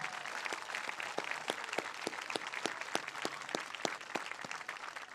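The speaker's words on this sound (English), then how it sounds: "How about another big round of applause for all of our award winners?" Audience applause for award winners at a school band awards concert, steady hand clapping from a crowd with sharp individual claps standing out, heard fairly faint and distant.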